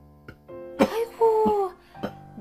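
A sick man lying in a hospital bed coughs in a few harsh, separate bursts, close and fairly clear, with short pauses between them.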